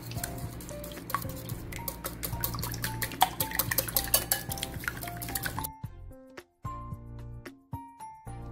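Eggs seasoned with salt and black pepper are whisked in a bowl for a cheese omelette: quick, dense metallic clinks against the bowl, then slower, sparser taps near the end, close and clear with no talking.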